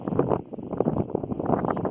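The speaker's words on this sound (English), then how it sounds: "It's very windy" Gusty wind buffets the microphone in low, rumbling surges, loud and uneven throughout, with no talking.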